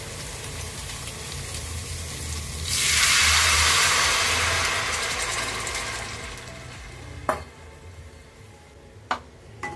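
A steady rushing pour of tamarind water into a hot frying pan swells into a loud sizzle that slowly fades, followed by a few sharp clicks of utensils.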